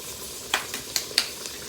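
Garlic and onion frying in an Instant Pot for beef bolognese, a soft steady sizzle broken by several sharp crackles and spoon taps, close up with no talking.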